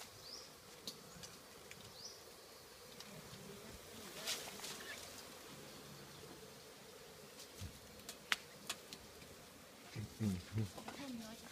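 Bees buzzing near a cottage on a fine day, a faint, continuous drone with occasional louder passes close by and soft knocks, heard at low level throughout.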